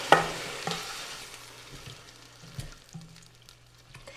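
Spoon stirring rice and liquid in a one-pot cooker with chicken and broccoli, a soft scraping and sloshing with a faint sizzle that fades over a few seconds.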